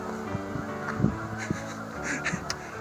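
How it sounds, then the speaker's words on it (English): A flock of geese honking steadily in the distance, many overlapping calls forming a noisy, cacophonous chorus over a constant drone. "The geese actually sound a little bit louder because of the topography and the prevailing winds help carry the sound"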